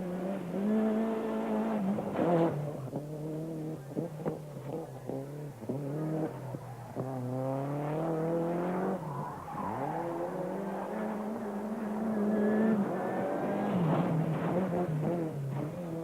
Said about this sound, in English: just look at this for confident car control around the twisting layout at Silverstone